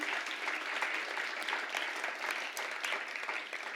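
Dense, continuous applause for top achievers at a Grade 6 school celebration ceremony, a crowd of hands blending into an even wash of clapping at steady volume.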